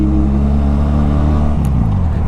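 A big bike motorcycle cruises on an expressway with a loud, close engine drone and rushing wind, and the engine note shifts and drops partway through.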